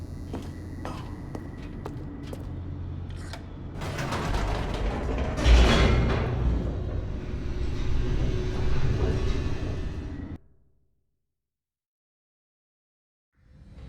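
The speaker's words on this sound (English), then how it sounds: "The elevator raced downward, plummeting towards an unknown fate." An elevator in The Stanley Parable descends with clanking, ratcheting machinery and a building rumble, then cuts off abruptly into silence for a few seconds.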